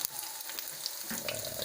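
Shallots sizzle and crackle in hot oil for Balinese lawar, a close, bright frying hiss that stays steady and softly intensifies partway through, with no talking.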